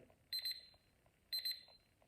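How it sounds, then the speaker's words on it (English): A TimeCube timer beeps at the end of a countdown, sounding two short bursts of rapid high electronic beeps about a second apart, clear and close in a quiet room. "When it gets to the end, it's going to beep and the lights will go off."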